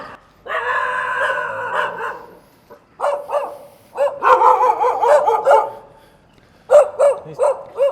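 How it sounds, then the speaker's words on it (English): Several dogs bark aggressively near a border crossing point by a bridge on the Burma frontier, sounding in loud repeated bursts and clusters with brief pauses between volleys, fairly close and with no speech over them. "These dogs are aggressive, man."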